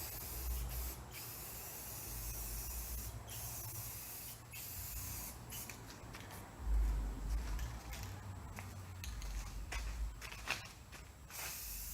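A spray can hisses in bursts while paint is applied to the top edge of a bus bumper rack, with short pauses between passes and faint handling noise in a quiet space.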